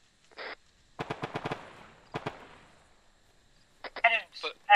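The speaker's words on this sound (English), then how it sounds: "Just down the hill from you, there's a guy shooting at us." Enemy gunfire in the Arma 3 military game: a quick string of sharp, fairly distant shots followed by a couple more, with radio-style voices talking before and after.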